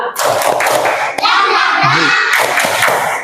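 A school class performs the Indonesian tepuk semangat clapping chant, rhythmic bursts of many hands clapping with a sharp thump, loud and close, mixed with children's chanting voices.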